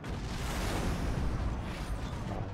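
Heavy tank shell fire in Planetside 2, a dense rumbling boom with sustained low-end roar and battle noise, fairly quiet overall and with no talk over it.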